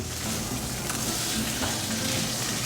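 Lechon pork sizzles steadily in a hot pan as it browns, a dense, even crackle with faint stirring underneath.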